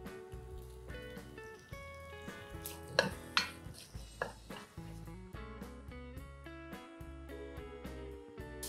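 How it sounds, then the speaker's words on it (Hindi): Chopped tomatoes go into a hot oil tadka and fry with a soft, steady sizzle, with clinks from pot and utensils on top. Quiet and close, with no talking. "और चॉप टमेटोज गए तड़के में"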